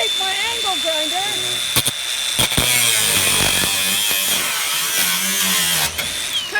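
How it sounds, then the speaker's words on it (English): An angle grinder cuts the heads off nails in old corrugated tin roofing on a rotting barn during a teardown, a loud, steady whine filling the clip with a few sharp bangs and someone talking alongside. "I'm going to take my angle grinder."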